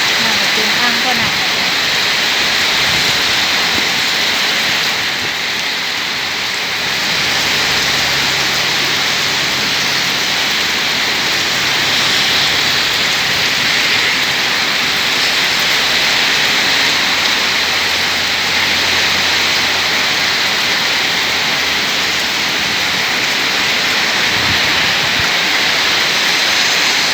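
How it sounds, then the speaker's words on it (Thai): Heavy rain pours down in a dense, unbroken roar for the whole stretch, loud and close, with a faint low rumble of a passing vehicle partway through. "ฝนตกแห้งแห้งเลย"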